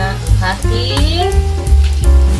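Cabbage stir-frying in a pan with a little pepper added, a steady close sizzle and hiss with clinks of stirring throughout, no talk.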